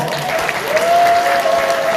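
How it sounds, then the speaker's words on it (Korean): An audience at a welfare forum launch in Gumi, Gyeongbuk, applauds the organizers with steady crowd clapping. A faint tonal whistle-like tone sits over the applause. "주최측 여러분께 박수 한번 보내드릴까요?"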